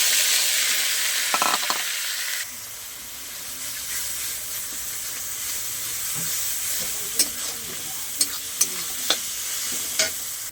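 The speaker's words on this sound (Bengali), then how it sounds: "এরপর পেঁয়াজ পেস্টটা দিয়ে দেবো।" Onion paste hissing and sizzling in hot oil in a pan, with steady broadband frying noise. A few sharp clinks of a stirring utensil come near the end.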